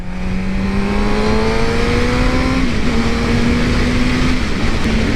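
A Suzuki GSX-R600 sportbike engine drones loudly and close up under riding wind noise, its tone climbing steadily. It drops briefly during an upshift, then climbs again before another shift near the end.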